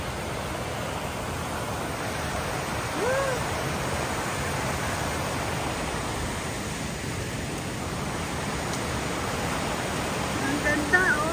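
Anna Ruby Falls in Georgia pours in a steady, broadband rush of falling water, a constant close roar that fills the scene without pause.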